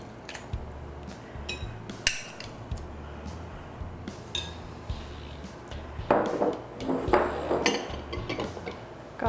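Cream of mushroom soup from two cans drops into a bowl with wet squelches and scraping, clinking spoon-on-metal taps, a string of close kitchen clatters that grows busier toward the end.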